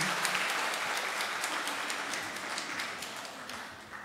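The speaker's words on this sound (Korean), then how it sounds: "우리 박수로 축복합시다" Church congregation applauds to bless a newborn baby during a service, a warm wash of many hands clapping at once that holds steady and then slowly tapers off.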